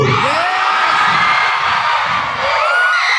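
A large crowd at a Vice Ganda live comedy show in Palayan City cheers loudly, a dense sustained roar of shouts and whoops from many voices filling the space.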